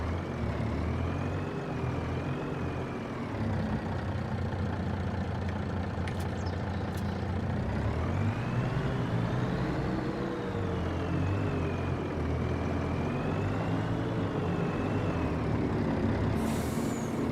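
A truck engine in Farming Simulator 25 drones steadily for the whole stretch, its pitch rising and falling gently as it runs, with a brief air-brake hiss near the end and no voices.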